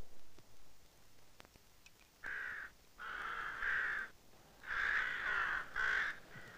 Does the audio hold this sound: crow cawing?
yes